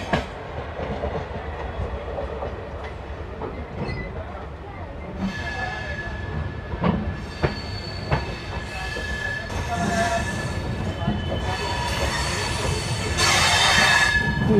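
A Jansadharan Express train slows through Sahibabad station without stopping, with a steady rolling rumble, clacking wheels and rising metallic squeals as it goes, and people talking in the background.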